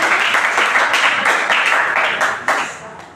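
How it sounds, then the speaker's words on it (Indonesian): A short burst of applause from students in a classroom, honoring a classmate named Hani, with dense, steady clapping that quickly fades at the end. "Beri aplaus untuk Hani"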